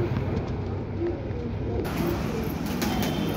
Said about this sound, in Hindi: ये ग्रेबास का पेयर है दोस्तों, जो कि हाई फ्लायर ग्रेबास का सेट लगा हुआ पेयर है